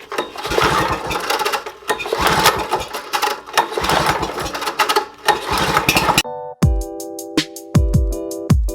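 A 1960s Sachs KM-914 rotary Wankel engine starts and runs loud and close with a fast, buzzing, rattly note. It then cuts to a series of sharp, ringing metallic strikes.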